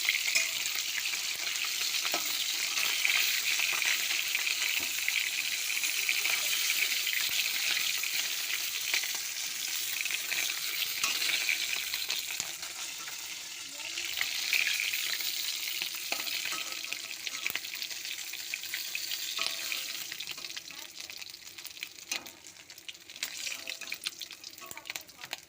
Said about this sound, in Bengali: মাছটা ভাজতে ভালো, ভাঙিনি, বেশ শক্ত ধরনের মাছটা।